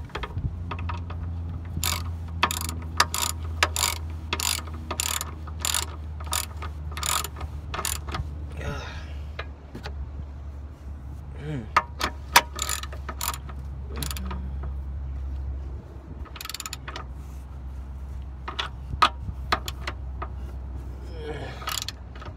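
A ratchet clicks in repeated rapid bursts while tightening lower control arm bushing bolts on a BMW E46, sharp near ratcheting strokes separated by short pauses over a low steady hum.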